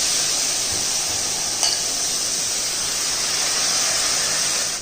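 Washed kodo millet hits a pan of sautéed onions and is stirred, giving a steady loud sizzle and hiss with a faint scrape of stirring.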